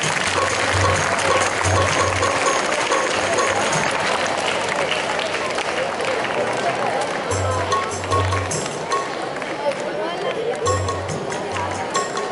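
Sustained crowd applause at a school Children's Day celebration fills the room, dense and steady, with a low rhythmic thumping underneath and voices mixed in throughout.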